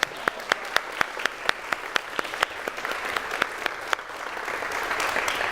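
Audience applause at a workshop session, opening with sharp, evenly spaced claps from a few nearby people that swell into a fuller, continuous round of clapping from the group.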